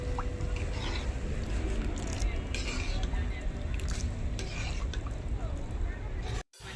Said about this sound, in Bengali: এর ভেতরে 1 বাটি জল দিয়ে দেব। একটু নাড়াচাড়া করব।